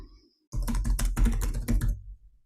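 Someone types a translation on a computer keyboard, a quick close burst of clattering keystrokes lasting about a second and a half after a short silence, with no talking.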